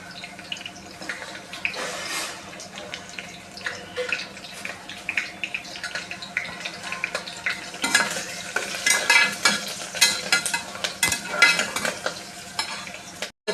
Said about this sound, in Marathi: कांदा देखाडे मस्त लाल लाल होई जायले